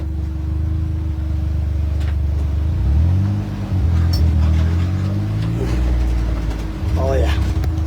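A John Deere vehicle engine runs close by with a steady low rumble, rising in pitch as it revs and changes speed. Someone talks over the engine.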